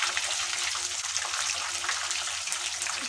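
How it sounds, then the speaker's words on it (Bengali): Fish chops made from Bombay duck fry in hot oil, producing a steady, close, hissing sizzle with fine crackling throughout. "এভাবে উল্টে পাল্টে কিছুক্ষণ ধরে ভেজে নেব"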